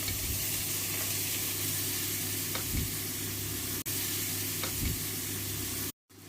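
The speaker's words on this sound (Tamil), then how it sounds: "அதில் நம்ம புதினா, மல்லி இலை போடுவோம். நல்லா வதக்கி எடுப்போங்க." Fresh mint and coriander leaves sizzle and fry steadily in a hot pan with chilli powder, a continuous close crackling hiss with a few soft stirring scrapes, broken by a brief dropout near the end.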